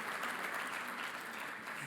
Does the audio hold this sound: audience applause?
yes